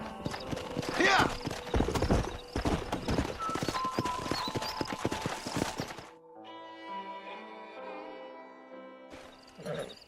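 Horses in the video game Red Dead Redemption clop along in a rapid, close hoofbeat rhythm with occasional whinnies, then the hooves stop and a voice speaks over quieter game music.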